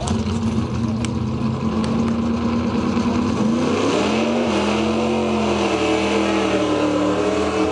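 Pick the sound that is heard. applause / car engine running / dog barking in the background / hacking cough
car engine running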